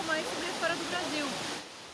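Waterfall in an Afro-Brazilian Calunga community in Brazil, a steady broad rush of falling water with faint voices under it.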